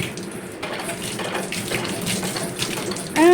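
Steady broadband hiss of water running from a tap, continuous and fairly close, with a faint brief voice-like squeak at the very end.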